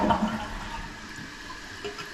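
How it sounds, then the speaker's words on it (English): A household toilet flushes just after its fill valve has been repaired, the water rushing steadily and close at hand for about two seconds with no talking. "We're going to give it a flush."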